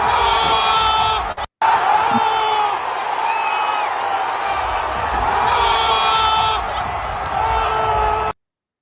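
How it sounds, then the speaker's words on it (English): Stadium crowd cheering wildly, a loud sustained roar of voices with whoops and shouts, broken by a brief cut near the start and ending abruptly. "And the crowd goes wild"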